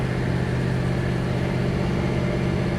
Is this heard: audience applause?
no